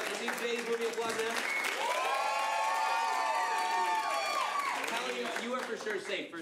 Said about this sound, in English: If you'd like to see Jay's movie, applaud now.